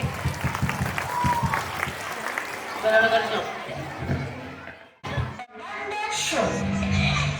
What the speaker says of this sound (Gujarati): તો આપણે એમને તાળીઓના ગડગડાટથી વધાવી લઈએ.